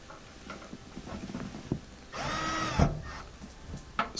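A power drill drives screws back into a washing machine in a short whirring burst, with faint clicks and handling noises before and after in a quiet room.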